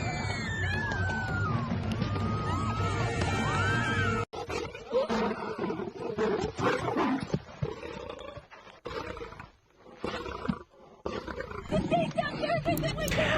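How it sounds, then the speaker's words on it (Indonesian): A lion attacks and roars in a film scene on the African savanna, with growling and snarling, a crash of breaking windshield glass, and dense overlapping noise under loud dramatic music. "singa datang dan menerobos kaca mobil depan dan langsung memangsa si pemburu tersebut."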